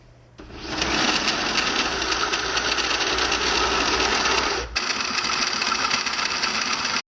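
A drill bit bores through metal guided by a welded washer during a hydraulic install on a Lincoln Town Car, giving a loud, steady grinding whir that briefly dips near the end, then resumes.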